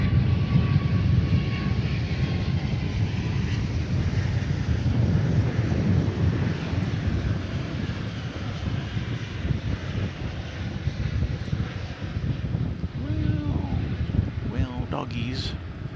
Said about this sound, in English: the first thing we're going to see today is a 777 on Runway DFW